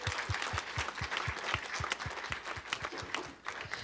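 An audience at a startup pitch competition applauds the judges, a dense wash of clapping with some steady, evenly spaced claps standing out close by, sustained at moderate loudness.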